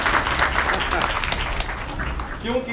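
An audience claps at a spiritual gathering, scattered applause rising under a man's speech.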